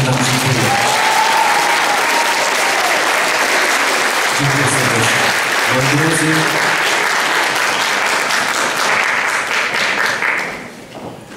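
Sustained audience applause fills the hall at a municipal ceremony marking the centenary of Poland regaining independence, steady and dense before tapering off at the end, with a speaker's voice heard over it.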